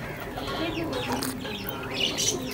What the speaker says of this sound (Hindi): सारे कबूतरों को खोल दिया गया है